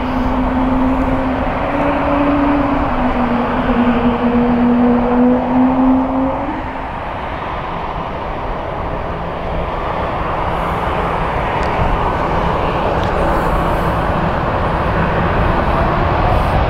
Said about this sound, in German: Oh, der 340er kommt auch runter.